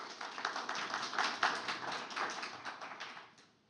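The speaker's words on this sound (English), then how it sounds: "let's give a round of applause to our panelists" A small audience at a housing design panel talk claps for the panelists, a brief burst of close, distinct hand claps that builds, then thins and fades out within a few seconds.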